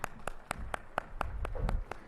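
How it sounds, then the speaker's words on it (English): Audience at a cybersecurity summit clapping, heard as about ten sharp, evenly spaced claps, close and steady, like one or a few pairs of hands over a low murmur. "Shall we give a good round of applause,"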